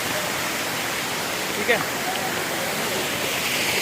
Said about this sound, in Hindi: बिल्कुल देखिए नेचुरल वाटरफॉल के नज़दीक